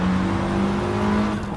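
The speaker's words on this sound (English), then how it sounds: "the RX-7 Spirit R. What an absolute hoot and holler to drive" A Mazda RX-7 Spirit R runs on a race track with its rotary engine holding a steady, close drone that eases off slightly toward the end of the short burst.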